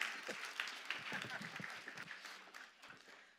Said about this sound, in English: You can go ahead and clap for her while she's coming up.